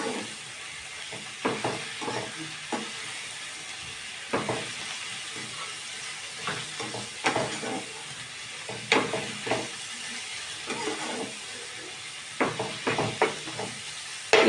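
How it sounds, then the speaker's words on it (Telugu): Coriander, mint and curry leaves frying in a pan, a steady soft sizzle with repeated louder bursts of crackle and stirring scrapes spread through, close and moderately quiet, with no talking. "కొత్తిమీర, పుదీనా, కరివేపాకు అన్నమాట. కడిగి పెట్టుకున్న, సన్నగా తరిగి కడిగి పెట్టుకున్న ఇవన్నీ కలిపి ఫ్రై చేయాలన్నమాట"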